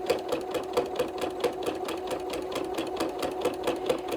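A sewing machine stitches a quilt facing about an eighth of an inch from the seam, the needle tapping in a quick, regular rhythm over a constant motor whir, up close.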